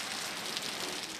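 Heavy rain pours down in a steady, dense hiss that never lets up, loud and close with no voices over it.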